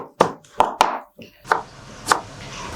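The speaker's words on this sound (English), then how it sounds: "So we'll start off with just a bit of chopping up," Garlic and ginger being chopped on a board in a caravan kitchen, several sharp knife strikes in an irregular rhythm, close and crisp.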